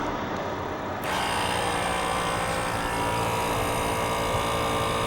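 The air suspension pump on a 2007 American Ironhorse Legend motorcycle switches on after a second and runs as a steady, continuous buzzing whine while raising the bike.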